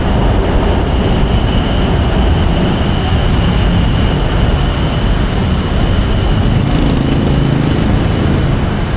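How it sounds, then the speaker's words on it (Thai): A steady, loud rumble of an elevated skytrain passing in Bangkok's Siam area, with metallic wheel squeal and high screeching tones running throughout, continuous without pause. "ข้างหน้านี้ก็จะเป็น สายรถไฟฟ้าสยาม"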